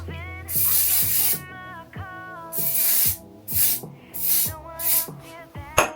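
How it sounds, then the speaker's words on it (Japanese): Hairspray hisses onto curled hair in repeated bursts of varying length, close and loud, with short pauses between sprays as the can moves around the head. "でスプレーかけます。"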